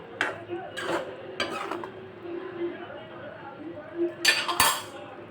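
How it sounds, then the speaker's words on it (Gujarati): Vegetable curry scooped from a cooking pan onto a serving plate: a few sharp clinks of a spoon against metal and plate in a quiet kitchen, with a brief louder scrape near the end. "સર્વિંગ પ્લેટમાં શાકને કાઢી લેશું"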